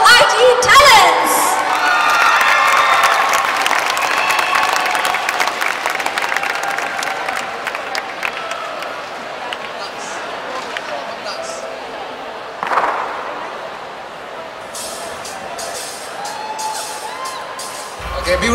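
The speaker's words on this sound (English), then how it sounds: "let's give a round of applause to our ITE talents" An audience at a college opening event applauds and cheers for hip-hop dancers, steady and loud with whoops, tapering off before a brief burst of clapping near the end.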